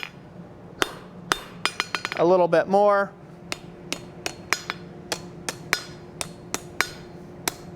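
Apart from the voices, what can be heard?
hammering hot metal petals while forging a rose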